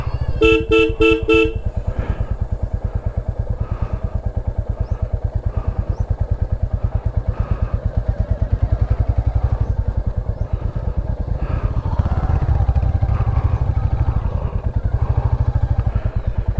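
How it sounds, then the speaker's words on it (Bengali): A motorcycle engine putters steadily up close while riding, opening with a rapid series of horn toots, with traffic rumble and clatter around. "মনসা মন্দিরে পুজো দিয়ে নেমে এসে বাইক নিয়ে বেরোচ্ছি এবার।"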